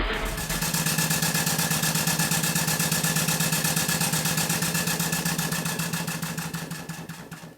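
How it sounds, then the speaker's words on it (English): An Allchin Royal Chester steam traction engine runs steadily nearby, giving a loud, rapid, even chuffing beat with a constant mechanical hum, holding the same rhythm throughout and easing slightly toward the end. "I'm going to run the engine for a while just to let you see it"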